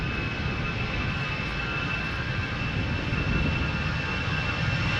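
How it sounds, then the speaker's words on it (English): A Shamrock airliner takes off from Amsterdam Schiphol bound for Dublin, its engines making a steady, loud broadband roar with a faint high whine running through it throughout. "Shamrock Flight 603 taking off to Dublin."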